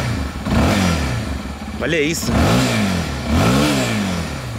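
A Honda XRE motorcycle engine starts up close and revs hard in repeated rising and falling surges with a throaty rumble, and someone speaks briefly over it.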